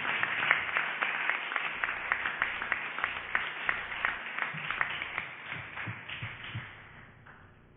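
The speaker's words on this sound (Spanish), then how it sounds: "Le damos un aplauso a Jesús." A long stretch of crowd applause, steady dense clapping that carries on for several seconds and then tapers off near the end.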